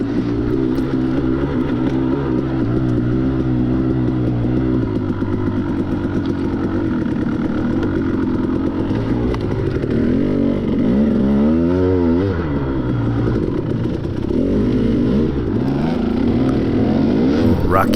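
A KTM 250XC dirt bike engine runs loud and close on a rocky trail race, revving up and down in rough surges throughout.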